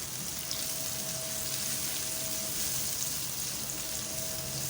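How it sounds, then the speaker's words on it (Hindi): Onions fry in a pan until light golden brown, giving a steady, close sizzle and crackle that runs unbroken, with no talk. "प्याज को अच्छी तरह से फ्राई करें, लाइट गोल्डन ब्राउन सा कलर आना चाहिए"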